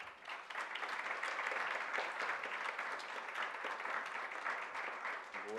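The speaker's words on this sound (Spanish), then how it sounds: "les pido un fuerte aplauso de bienvenida" An audience gives sustained welcoming applause for a visiting professor at an academic talk, a dense, steady wash of many hands clapping that holds strong throughout and eases slightly near the end.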